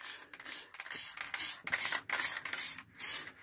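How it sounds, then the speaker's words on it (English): Yacht varnish is sprayed from a can onto a plywood cartoon bird cut on a scroll saw, heard as a series of about six close, hissing bursts with short gaps between them and no speech. "So I'll just spray this 3 or 4 times."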